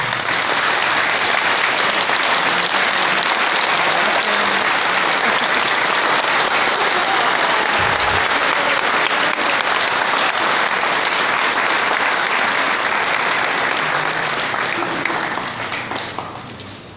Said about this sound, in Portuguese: uma bonita salva de palmas também